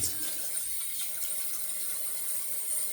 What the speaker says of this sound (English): We'll give it a rinse here.